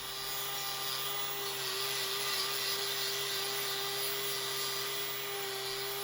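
An angle grinder trims the hoof horn of a bull held in a crush, a steady high-pitched whine with a constant droning tone, running continuously and fairly close with no talk.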